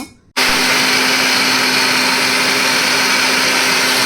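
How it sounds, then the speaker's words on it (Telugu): A kitchen mixer grinder starts up after a brief quiet moment and runs steadily, loud and close, blending masala with curd for a farm chicken curry, a constant high whirring motor drone with no talk. "ఇప్పుడు మిక్సీ పట్టేసుకుందాము వీటిని"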